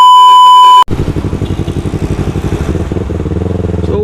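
A 400cc motorcycle engine bursts in after a steady electronic tone, idling and revving with a rapid, loud, close throbbing pulse that quickens and smooths toward the end.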